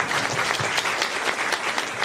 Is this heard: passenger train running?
no